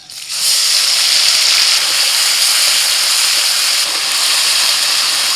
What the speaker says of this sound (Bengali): চিংড়ি মাছ ভাজা তেলের মধ্যে আরেকটু তেল দিয়ে দিয়েছি, ওর মধ্যে আমি ফোড়নে দিচ্ছি এলাচ, দারচিনি, লবঙ্গ, পেঁয়াজ বাটা